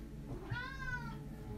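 A cat meows once in a drawn-out, rising then falling cry lasting about a second, fairly close, over a steady low room hum with no talking.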